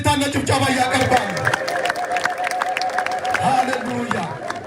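A church crowd at a funeral fills the air with high, wavering ululation and scattered clapping, a lively and fairly close chorus of voices with a constant babble underneath.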